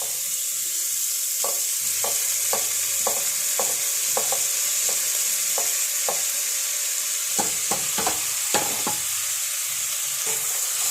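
Sliced onions frying in oil in a pan for chicken curry: a bright, constant sizzle with a regular run of scraping stirs close by.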